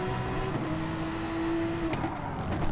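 Porsche Cup race cars on the main straight at Barcelona in Gran Turismo Sport: a sustained engine drone with a steady high-pitched whine that changes pitch once, near and continuous, with a faint quick whoosh near the end.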